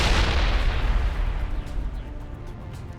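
A grenade blast in the video game Mass Effect, a loud booming explosion that rolls off and fades over a few seconds, heard alone without talk.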